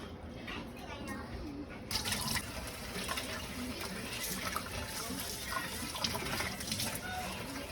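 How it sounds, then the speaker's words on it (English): Soaked Irish moss is rinsed under running tap water, a steady splashing trickle close by that lasts throughout, with the flow getting stronger partway through and speech faint underneath. "so I'm going to give it a next rinse"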